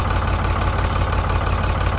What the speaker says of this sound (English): So this engine seems to be running even further than it did. It was really knocking a bit with those tappets